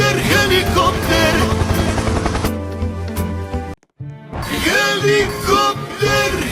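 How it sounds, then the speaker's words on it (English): A helicopter in a video game produces a loud, continuous, dense whirring roar that drops out for a moment before returning at full strength. "Helicopter, helicopter!"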